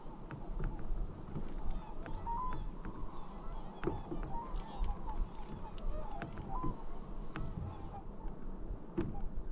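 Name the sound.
flock of birds calling near a canoe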